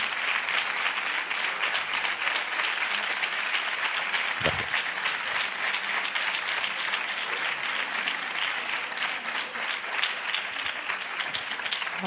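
Steady, dense applause from a lecture audience at a teaching conference, filling the whole stretch at an even level with no voices over it.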